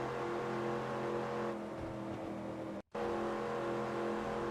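A NASCAR race car lapping Talladega Superspeedway in the video game NASCAR Racing 2002 Season: a steady, loud engine drone at a constant pitch with a brief dropout near the end, and no talking.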